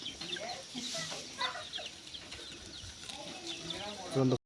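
Chickens cluck and murmur nearby in short, scattered calls, with a bit of background noise and a brief louder squawk near the end.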